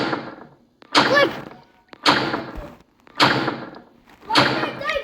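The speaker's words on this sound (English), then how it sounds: "Why is that guy banging the door?" Someone bangs on a door in a horror video game: four heavy, evenly spaced thumping bursts about a second apart, loud and close, each with a short rattling decay.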